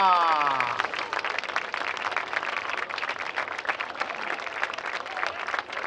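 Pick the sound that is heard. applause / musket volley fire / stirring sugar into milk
applause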